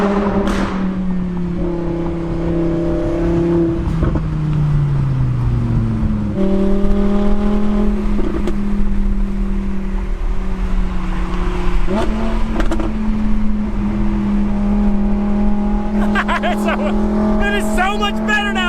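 An Audi R8 with a rear-mounted V10 and aftermarket exhaust revs repeatedly toward 9,000 rpm, loud rising wails dropping back between pulls, with people talking over parts of it.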